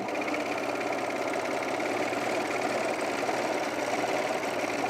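Sewing machine stitching through thick fabric of men's pants, a steady rapid mechanical chatter with rhythmic needle knocking, constant and close throughout.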